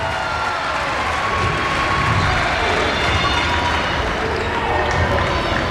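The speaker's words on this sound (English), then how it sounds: "Listen to the Hawk fans on their feet." A hockey arena crowd of Hawk fans on their feet cheers for a player's 1,500th point, a dense, loud and continuous roar with clapping that fills the space throughout.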